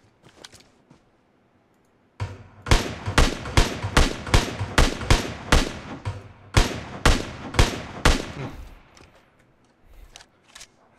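A run of about a dozen loud, sharply separated shots fires in quick rhythm in a shooter game after a quiet start, followed by scattered fainter clicks and distant shots.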